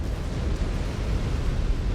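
A mech's exposed reactor explodes in MechWarrior 5: Clans, a continuous deep rumbling roar that holds steady and loud for two seconds with no clear onset.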